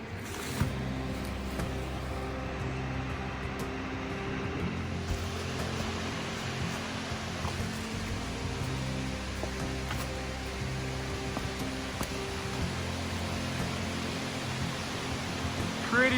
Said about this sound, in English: That is a big old waterfall.